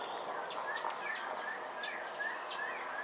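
Bananaquit chirping on Bonaire: five brief, high, thin chirps spaced irregularly over a steady outdoor background, with faint sliding whistles from another bird mixed in.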